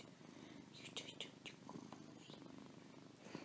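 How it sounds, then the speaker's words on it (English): A pretty male cat, about six or seven years old, purrs close by indoors, a soft steady rumble broken by a few faint chirps and rustles, with a voice murmuring now and then. "He's not a mean cat."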